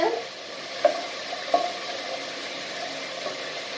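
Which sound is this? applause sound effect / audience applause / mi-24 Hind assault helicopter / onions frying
onions frying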